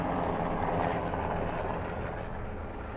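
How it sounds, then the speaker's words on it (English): Steady, droning rumble of Army Black Hawk helicopters passing overhead, continuous and somewhat distant, with no voices. "if you can hear those helicopters, we have an airport with the Army base there"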